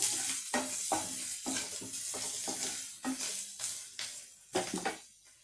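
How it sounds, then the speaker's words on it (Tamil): Onions sautéing in a pan for a fish curry, a steady close sizzle broken by repeated scraping stirs of a spoon against the pan, with no talking. "நல்லாவே வெங்காயம் வதங்கிடுச்சு"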